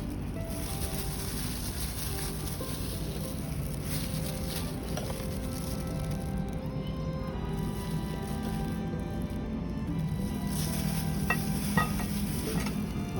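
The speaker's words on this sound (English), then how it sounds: "she's just mixing it all up there, all together, making sure it's mixed really well with the salad dressing" Beef, vegetables and salad dressing being tossed together for a Vietnamese green mango salad, a steady wet stirring and squishing texture running continuously throughout with faint background noise and no talk.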